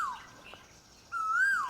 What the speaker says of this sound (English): That sound, that is the bird that I hear near my condo at 4 a.m. at least a couple times a week.